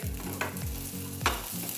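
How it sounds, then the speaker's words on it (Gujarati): A spoon scrapes and stirs food around a hot pan in ghee in a few strokes, with a soft sizzle underneath and low music in the background. "આને સતત હલાવ્યા કરશું જેથી ફોટે નહીં"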